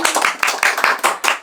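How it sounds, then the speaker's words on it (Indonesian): A small group claps after an Indonesian casual chat interview, with quick pulsing bursts of hand claps repeating close by for a moment. "Tepuk tangan dulu."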